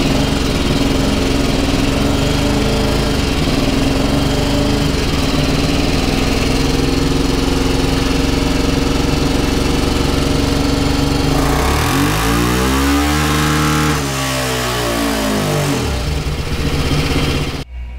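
A loud Honda Titan 353 motorcycle engine roars at sustained high revs on a dynamometer, then drops and rises again in a sweeping rev before winding down near the end.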